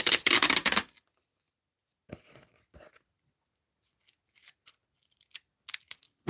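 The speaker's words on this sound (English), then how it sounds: "I might be able to cut it off from the other piece." Scissors cutting paper for a sketchbook collage: one loud, rapid burst of snipping close up, then a long quiet pause broken by a few faint, scattered snips and paper rustles.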